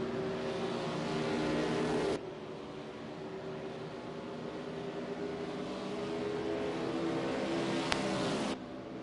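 Race car engines drone and rev together in a sustained, loud mechanical roar ahead of a single-file restart, with the pitch and intensity shifting as the cars bunch up, the sound stepping down and back up.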